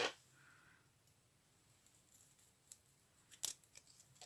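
Scissors snip through paper in a quiet room, a couple of sharp close cuts at the start and near the end with faint rustling in between.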